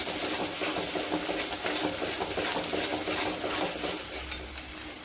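Ground masala paste is stirred and sautéed in a pan for a Maharashtrian dabuvada bhaji, with a steady sizzle and repeated scraping stir strokes, close and continuous, no voices.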